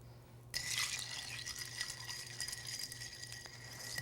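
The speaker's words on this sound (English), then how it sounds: "Give it a stir." A barrel-aged cocktail is stirred over ice in a glass, a continuous close swirling rattle and soft clinking of cubes that starts abruptly and continues steadily to the end.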